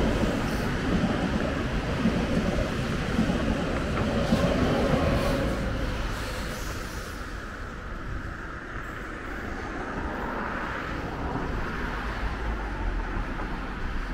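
An Intercity train rumbles past close by at Essen on a winter evening, a loud steady roar of wheels and carriages that slowly fades as it moves away.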